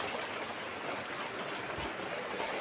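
Steady village rain, a dense even hiss of falling water that stays constant throughout with no voices.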